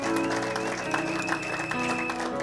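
Church congregation clapping together, steady dense applause with sustained musical tones underneath, no clear speech over it.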